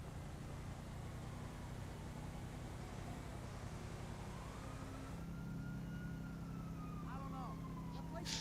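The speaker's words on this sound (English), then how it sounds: "Someone's just left their siren on for the lulz, haven't they?" A police car siren in a GTA video game wails faintly in the distance, its rising and falling tone drifting over a steady low rumble of game ambience and traffic.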